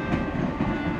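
A train in the Cookie Run Kingdom video game rolls along with a steady, loud rumble and a soft clickety-clack, in a holiday setting.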